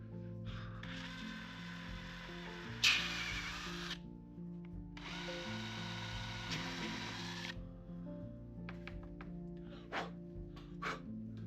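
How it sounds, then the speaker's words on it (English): A power drill bores a 3/16 inch hole in a wood carving, with two whirring bursts of a few seconds each and then short clicks and taps. "Now we're gonna go up to our 3/16 hole"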